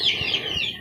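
Pet chickens in a backyard coop give short clucking calls, a few close bursts over steady faint background noise, with no talking.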